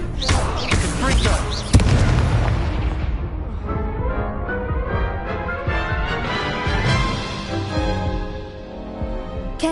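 A Confringo blasting spell in the Hogwarts game goes off as one loud booming burst with a sharp crack, then a roaring decay that fades under music and game sound.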